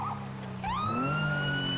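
Police car siren in the NoPixel 4.0 roleplay server, rising in a sweeping wail after a short lower tone, loud and steady with no talk over it.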